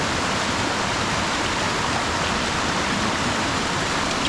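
Rushing mountain stream swollen after heavy rain, flowing strongly and continuously, a loud, unbroken broadband wash close by with no voices.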